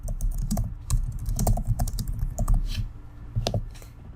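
Fast, continuous clatter of keys on a computer keyboard as inline text comments are typed, close and steady with no talking.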